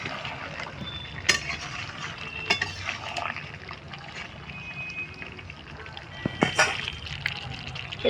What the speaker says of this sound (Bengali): চিকেনটা যদিও একটু হালকা ভাজা রয়েছে। তা চলো আমি 3 মিনিটের জন্য একটু ঢাকা দিয়ে দেবো, হালকা একটু আমি নেড়ে দেবো।